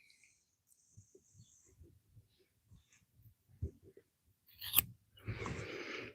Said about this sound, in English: I can do a snip, and these leave a ridge. Do another snip, pull the wool back.